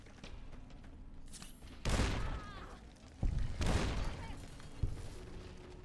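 Grenade blasts in the video game Fallout New Vegas: two heavy, booming explosions with crackling debris tails and a sharper thump after, over a low game ambience.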